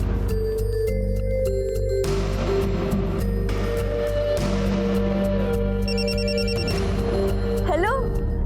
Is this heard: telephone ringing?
yes